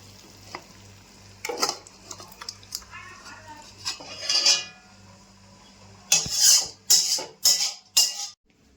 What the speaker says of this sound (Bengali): আচ্ছা তো রান্না হয়ে গেছে এখন ঢেলে দিচ্ছি